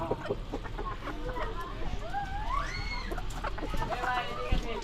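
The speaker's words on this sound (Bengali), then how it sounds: "এই যে দেখতে পাচ্ছেন কতগুলো মুরগি যে খাবার দিচ্ছে ভাই" A busy flock of large farm chickens cluck and squawk while being fed, with one rising call standing out above the rest, all under steady talking nearby.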